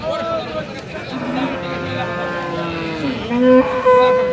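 Cattle low amid the bustle of a crowded Rajshahi city livestock market, with long tonal moos rising near the end over steady crowd noise and people talking.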